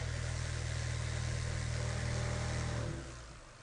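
InstaSPIN-FOC motor on a LaunchPad and BoosterPack, giving a steady close electric whine and hum that drops in pitch and level near the end as it slows down.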